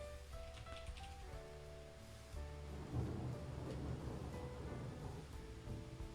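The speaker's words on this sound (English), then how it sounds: "there's lightning outside." A thunderstorm rumbles outside with a long, low roll of thunder building midway over a steady wash of rain, heard indoors at moderate distance and fairly faint.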